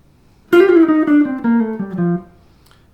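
Jazz guitar playing a quick 16th-note triplet run between tonic and second with a half step near the seventh: a clear, close single-note line of several descending notes, then a sustained note ringing out alone.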